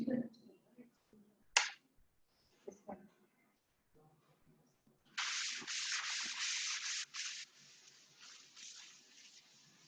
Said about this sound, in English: shall I rub the board?